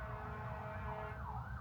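Emergency vehicle sirens wail in a town at rush hour, a faint, distant rising and falling tone over low traffic rumble, without speech.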